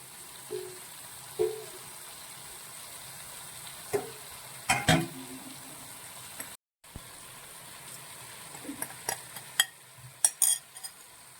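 Crushed chilli and onion stirred in coconut oil in a pan, making scattered scraping and clinking strokes over a quiet, steady sizzle, heard close with no talking.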